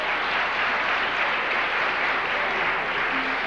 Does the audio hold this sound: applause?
yes